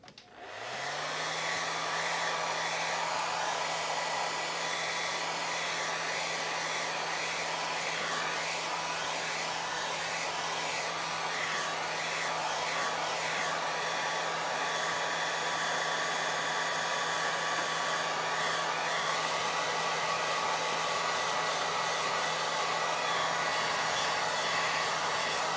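A hair dryer blows steadily on a wet watercolor painting, a loud continuous whir with a low motor hum that runs unbroken from start to finish with no talking.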